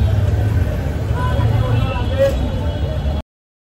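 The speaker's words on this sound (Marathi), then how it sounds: "तर आता बसलो आम्ही रिक्षामध्ये" An auto rickshaw ride in Pune, with steady low engine rumble and road noise throughout, passing traffic and faint voices in the background, ending abruptly after about three seconds.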